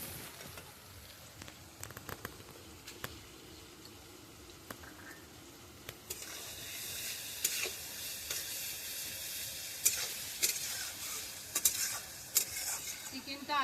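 Chicken pieces are added to a cooked spice paste for mocha chicken and stirred in the pan, giving a soft sizzle with scraping stirs that grow louder and busier after a few seconds.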